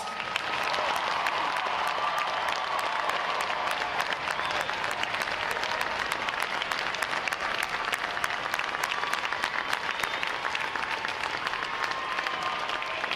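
Large crowd gives a final round of applause at a Navy boot camp graduation, a dense, steady wash of clapping from many hands that holds evenly throughout, heard from a distance across an open venue.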